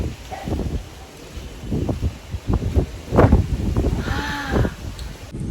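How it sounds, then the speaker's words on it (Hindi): Strong wind blowing outdoors ahead of a storm, gusting in loud rushing bursts against the microphone with some rustling. "बहुत हवा चल रही है।"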